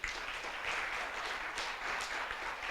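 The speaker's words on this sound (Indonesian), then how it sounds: "Kasih tepuk tangan dulu buat para pemain drama tadi." A church congregation gives a short burst of applause for drama performers at a Christmas celebration, with soft, even clapping that is fairly distant and continuous throughout.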